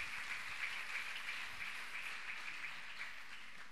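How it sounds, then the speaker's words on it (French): An audience applauding a group of women at a church youth gathering, a steady wash of many hands clapping that stays even and fairly faint throughout, with no talk over it. "Applaudissons un peu ces femmes."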